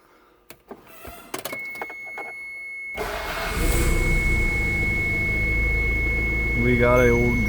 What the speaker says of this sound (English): we got a starting engine